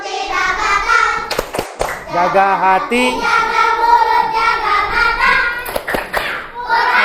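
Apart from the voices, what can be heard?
group rhythmic clapping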